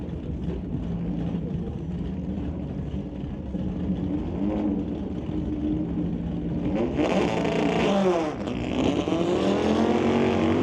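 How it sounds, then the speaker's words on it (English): Drag racing cars, a Chevrolet Camaro and a Volkswagen, launch at a Super Shifters event, engines roaring loudly and steadily, then a sharp surge of revving and rising engine pitch as they accelerate away. "So Hoogstens leaves, and John DePort in the Camaro goes red."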